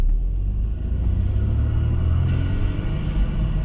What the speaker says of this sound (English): you hear a nice little, almost like a blow-off valve kick